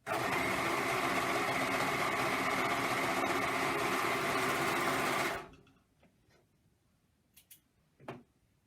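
An overlocker sewing machine stitches stretch fabric for a patchwork jumper hoody, a loud steady whir running for about five seconds before stopping abruptly, followed by a few faint clicks and handling sounds.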